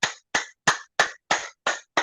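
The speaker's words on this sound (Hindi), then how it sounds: "पूरी बाजू खोल के ताली" Seven sharp, evenly spaced hand claps made with the arms swung wide open during an acupressure and yoga exercise routine, close and crisp with silence between them and no talking.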